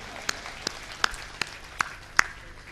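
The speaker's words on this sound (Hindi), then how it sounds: "इस बात के लिए पूरा सदन एक बार जोरदार तालियां बजाए" Audience at a Hindi comic poetry gathering clapping in slow, evenly spaced single claps, about six sharp hits over a low hum of room noise rather than a full burst of applause.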